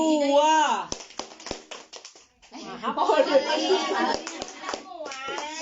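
A group performs a rhythmic P2K2 clapping chant at an Indonesian social-assistance information session, sharp hand claps punctuating voices in short bursts, with speech and chatter around the claps.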